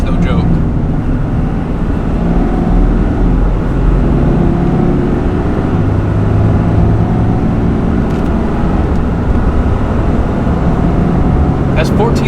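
Heavy diesel pickups, a Ford F350 and a RAM 3500 each towing about 14,500 pounds, pull hard in first gear with a loud, dense, steady low roar that holds throughout.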